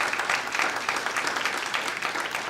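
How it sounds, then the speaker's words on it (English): A dinner audience applauds a state senator with dense, steady clapping that holds at a moderate distance for the whole stretch and never drops out. "Let's give him a round of applause."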